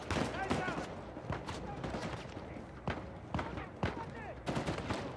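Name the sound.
gunfire in the video game Uncharted 4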